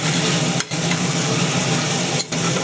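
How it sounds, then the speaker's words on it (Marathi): Tomatoes stirred into frying onions in a pot for whole masoor lentil pulao, a loud continuous hiss and crackle of sizzling oil, close up, broken by two brief gaps, with no voices. "यामध्ये मी हे टमाटे टाकणार आणि हे सुद्धा हलवून घेणार"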